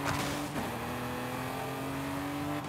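Race car engine in Forza Horizon 5 on the Emerald Circuit, an S-class tuned car, holding a steady high drone with a brief dip near the start before climbing again, loud and continuous with no talk.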